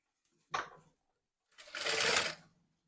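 A sewing machine stitches a blouse joint, running in two bursts: a short whir followed by a longer, steady run, close and loud, then stopping.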